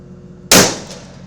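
A live power line touches a pole and arcs with a single sudden loud bang, a sharp crack that decays over about half a second against a quiet background.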